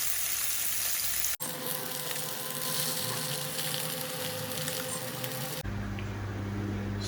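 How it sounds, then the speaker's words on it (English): Steady, close sizzling of parshe fish frying in mustard oil fills the scene, a constant crackling hiss with brief cuts at the start and end. "take out the parshe after frying it on both sides"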